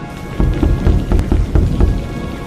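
Heavy rain pours down steadily during a night storm, with thunder rumbling through the downpour; loud and close throughout, with no voices.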